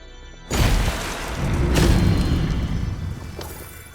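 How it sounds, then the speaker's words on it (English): Talisman stones shatter in The Tale of Bistun, a story-driven PS5 game, with a sudden loud crashing boom followed by a sustained rumbling, crumbling roar that swells again mid-clip and fades. "Destroy all talisman stones."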